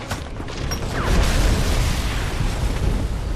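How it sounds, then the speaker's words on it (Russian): A loud video game explosion booms across the full range and rumbles on with a dense, roaring tail, with no talk over it. "Взрыв."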